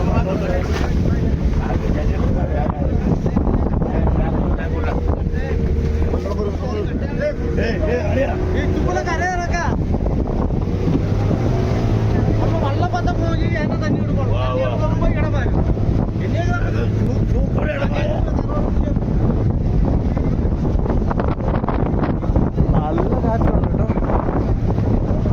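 Strong wind buffets a fishing boat out at sea during squid fishing, a loud continuous roar of gusts and rushing water with the boat's engine rumbling underneath, while people talk over it throughout.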